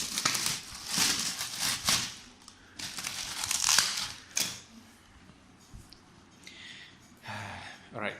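Plastic and foam shipping packaging around a Snowfit Windrunner is cut and pulled away: bursts of crinkling, tearing and rustling close by, loud at first and softer later, with some speech mixed in.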